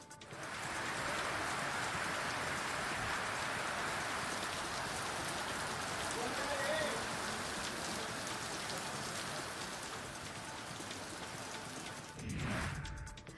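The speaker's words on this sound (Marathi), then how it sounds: "सोलापूर जिल्ह्यात गेल्या दहा ते बारा दिवसांपासून कधी मोठ्या तर कधी मध्यम स्वरूपाच्या पावसाच्या हलक्या सरी बरसत आहेत" Rain falls steadily in Solapur district, making a dense, even hiss of drops on surfaces for several seconds, with a brief louder splash near the end.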